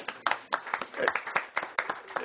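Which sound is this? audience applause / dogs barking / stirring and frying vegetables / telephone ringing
audience applause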